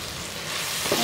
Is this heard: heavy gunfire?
no